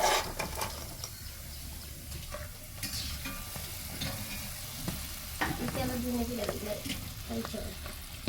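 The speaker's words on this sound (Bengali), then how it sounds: "এখন আমাদের পিঠা ভাজা শেষ" Pitha rice cakes fry in a pan at a village home, a soft steady sizzle with stirring and scraping clatters throughout, close and moderately loud.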